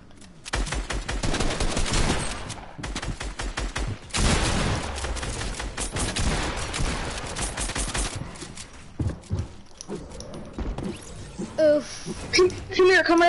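Rapid bursts of automatic gunfire from gold guns in a zombie shooter game, loud and dense for several seconds, then thinning to scattered shots and other game sounds while people talk.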